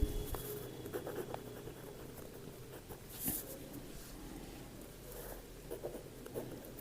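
Pen scratching on paper while working a geometry problem about triangle vertices, faint close strokes in short irregular bursts with a quiet room tone underneath.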